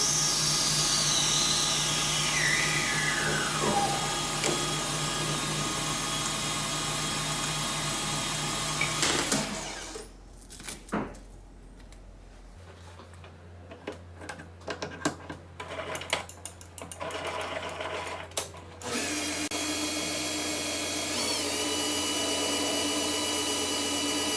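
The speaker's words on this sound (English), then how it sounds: "you got to go kind of slow when you part it off, or else it melts and gobs up" A metal lathe parts off a workpiece at slow spindle speed. A steady motor whine runs for about nine seconds, then drops away to scattered cutting scrapes and clatter before a steady machine hum returns.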